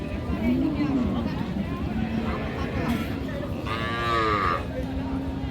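Cows mooing at a busy rural cattle market, a long low moo followed by a higher drawn-out call, heard over a constant babble of crowd noise and voices.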